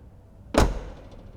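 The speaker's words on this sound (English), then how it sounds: "and of course the doors have to close perfectly, which they do." The door of a classic car under restoration in a workshop swings shut with a single solid, close thud that fades quickly in a quiet room.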